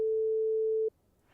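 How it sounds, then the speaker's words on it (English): A pure 440 Hz sine wave test tone holds steady and loud for just under a second, then cuts off abruptly, leaving faint low background noise. "which is 440 hertz, which of course we can listen to the sine wave"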